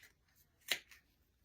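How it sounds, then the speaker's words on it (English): A single quick snip of scissors cuts through bottle cover strings during a craft project, a faint, crisp click alone in a quiet room. "So just put your scissors under in there and just cut."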